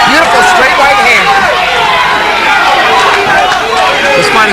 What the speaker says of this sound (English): The crowd responds to that